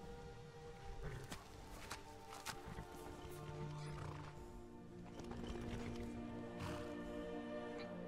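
A horse in modded Skyrim Special Edition whinnies and its hooves clop along over a bed of music and ambient noise, with a few sharper knocks and thuds.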